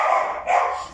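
Small dogs bark twice in quick succession, loud and close, the sharp yaps standing alone with no talk.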